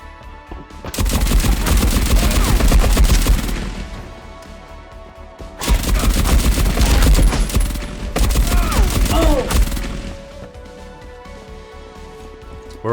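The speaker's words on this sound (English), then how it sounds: "switching from MG42s over to the automatic Mauser pistol to take out the AI" MG42 machine gun and automatic Mauser pistol fire in the Marauders shooter game, loud rapid bursts in two long fusillades separated by a brief lull, with sharp impacts and clanks between.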